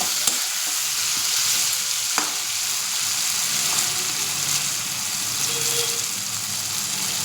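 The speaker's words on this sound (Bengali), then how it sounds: "একটু ভাজা ভাজা হোক।" Steady, close sizzle of frying in a pan while a paneer curry cooks, a continuous bright hiss with occasional small pops and stirring scrapes.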